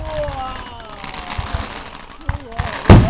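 Fireworks crackle and pop in the distance, ending in one sharp, loud burst, with people talking and exclaiming over the noise.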